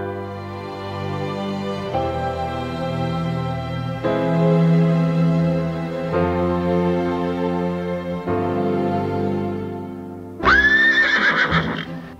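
One of two horses kept in a roadside field whinnies and neighs repeatedly in long, shaky calls, ending with a sharper, louder whinny, with no talking.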